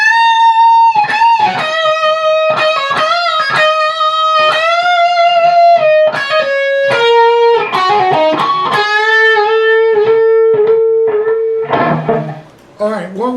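A song's closing lead part on electric guitar: a melodic line of sustained and bent single notes, loud and upfront, with no talking, fading slightly near the end.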